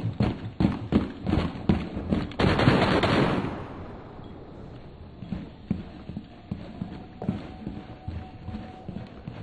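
Gunfire in a Rainbow Six match rings out as a quick run of sharp, loud shots, then thins into softer scattered cracks and footstep-like taps farther off.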